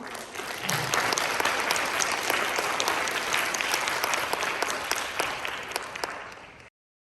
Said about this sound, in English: once again, please give her a round of applause.